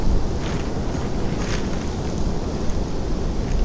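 Wind buffets and roars steadily against the microphone on a February fishing outing, a dense low rumble with no other sounds standing out.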